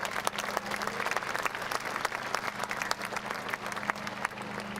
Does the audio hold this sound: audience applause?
yes